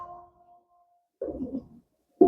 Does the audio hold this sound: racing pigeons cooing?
yes